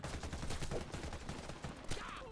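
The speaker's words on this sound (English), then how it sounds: "Brother, this shotgun is not good." Shotgun blasts ring out in a video game firing the Kalashnikov USA KHAOS, a quick series of sharp shots in uneven rhythm, fairly faint and dense, fading near the end.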